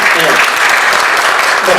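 An audience at a twentieth-anniversary commemoration applauds loudly and continuously throughout, a close, dense wash of clapping with voices mixed in.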